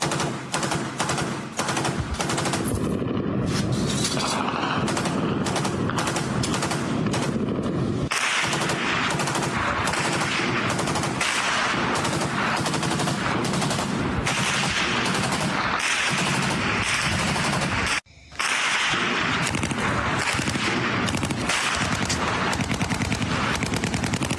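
Heavy urban combat, with gunfire from buildings and repeated explosions: dense, loud, nearly continuous automatic bursts rattle on for the whole stretch, with only a brief pause near the end and no voices.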